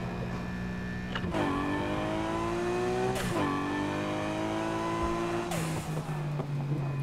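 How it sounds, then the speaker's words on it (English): A Midnight Purple Nissan Skyline R34 in the racing game NFS Heat revs hard and continuously, its engine pitch climbing through several gear changes with sharp shift breaks, loud and close with no talking. "The R34 sounds good as usual."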